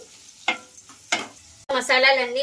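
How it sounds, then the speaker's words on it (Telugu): Spice powders, roasted cumin among them, are stirred and fried in a pan: two brief scraping stirs, then a steady close sizzle with a voice talking over it. "మసాలాలన్నీ వేసిన తర్వాత బాగా ఇలా కలిపేసుకొని కొంచెం పచ్చివాసన పోయే వరకు అయితే వేయించుకోవాలి"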